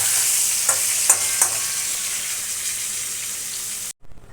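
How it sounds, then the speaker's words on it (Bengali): Brinjal pieces frying in oil on high flame after potatoes for a hilsa and potato curry: a loud, steady sizzle with a few sharp spoon knocks, cutting off abruptly near the end. "বেগুনগুলো হাই ফ্লেমে 2-3 মিনিট একটু ভেজে নেব।"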